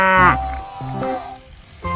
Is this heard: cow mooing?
yes